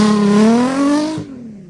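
A glitter-finished Nissan 350Z revs hard while sliding through a dusty cornfield dirt track, the engine note climbing steadily and loud for about a second before cutting off abruptly.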